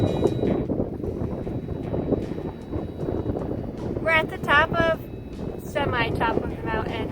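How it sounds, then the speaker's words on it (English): Strong wind buffets the microphone near the top of a mountain on the Lost Mine Trail in Big Bend National Park, Texas, a loud continuous rumble beneath a person talking. "top of the mountain, and it is extremely windy up here."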